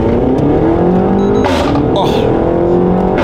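Renault Mégane RS engine revving under loud, continuous cabin noise as the car pulls away, with brief bursts of road and wind noise and people talking inside.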